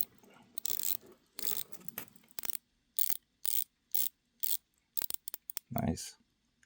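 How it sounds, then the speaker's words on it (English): A Seiko Monster dive watch bezel is turned in short bursts, each a rapid run of crisp close ratcheting clicks from its 120-click action, separated by brief silences. "The bezel action is crisp with a solid 120 clicks."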